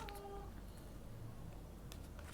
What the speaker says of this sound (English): that was my cat, y'all.